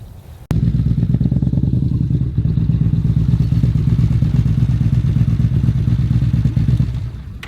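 A Yamaha Bolt motorcycle fires up close by and settles into a loud, lumpy, throbbing V-twin idle that holds steady for several seconds, then begins to fade.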